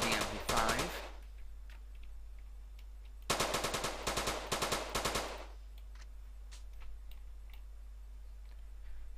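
An MP5 submachine gun in GTA San Andreas fires two rapid automatic bursts, a short one and then a longer rattling string, loud against near silence.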